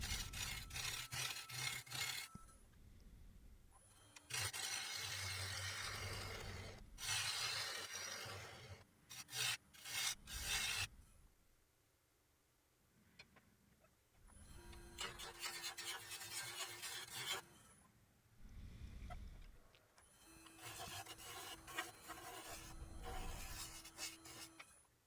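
A Hercules carbide cup cutter rasps and scrapes into a wooden bowl spinning on a lathe, hollowing it in several sustained bursts of gritty shaving noise separated by short pauses, close and fairly quiet.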